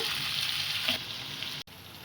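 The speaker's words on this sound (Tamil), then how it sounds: "லைட்டாக எண்ணெய் ஊற்றி அதிலே கொஞ்சம் நேரம் அப்படியே வேவிடுங்க" Prawns sauté in a little oil for prawn thokku, producing a dense, even close-up sizzle that runs the whole moment with a brief cut near the end and no talk.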